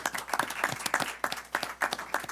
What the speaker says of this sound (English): a round of applause for the new one